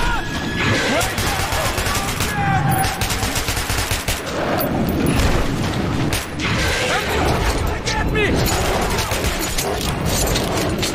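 Rapid, dense gunfire and crashing impacts in Metro 2033 Redux, with bursts of automatic fire layered over chaotic combat noise throughout, loud and continuous with shouting voices mixed in.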